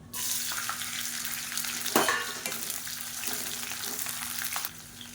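Pirandai (adamant creeper) frying in sesame oil for thokku gives a steady, close, loud sizzle throughout, with a brief scrape of stirring near the middle before the hiss cuts off at the end.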